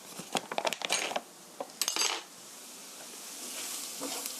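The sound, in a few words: flour being stir-fried in a pan for tomato sauce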